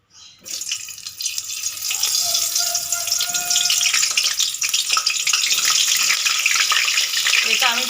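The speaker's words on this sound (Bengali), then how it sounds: "তেল গরম হয়ে গেছে এবার আমি এক এক করে ছেড়ে দেব" Stuffed bitter gourds go into hot oil in a wok, and after a brief quiet start a loud, dense sizzle rises and holds steady throughout.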